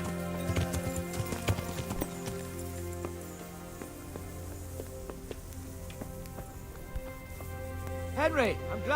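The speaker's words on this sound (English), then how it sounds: "Are those horses?" Horses in the medieval video game Kingdom Come Deliverance clop along with a scattered hoof rhythm beneath game music and voices, and a brief whinny rises near the end.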